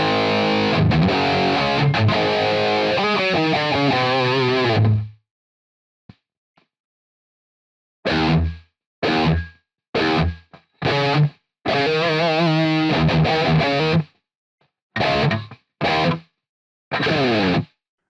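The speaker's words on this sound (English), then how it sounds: "let's go over to the guitar and see what that sounds like with just a delay line and what the effect is." An electric guitar plays through a software delay-line effect running on an STM32 board, with distorted chords and then short bursts separated by silences and faint echoes. It is clear, with no talking.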